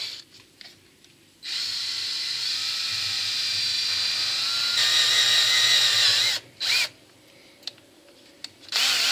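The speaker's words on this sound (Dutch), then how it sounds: "Wat ik nu wel ga doen, ik even een verzinking in maken." Power drill cutting a countersink into wood while building a woodworking bench, a steady high whine running several seconds alone, then a few short bursts and brief stops near the end.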